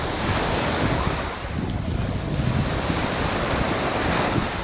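Ocean waves wash continuously around a departing boat while strong wind buffets the microphone, creating a dense, roaring rush with no pauses.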